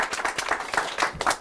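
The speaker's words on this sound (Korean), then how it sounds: "박수 부탁드리겠습니다" A short spell of applause from a live talk-show audience, a dense patter of clapping heard at moderate distance with no voices over it.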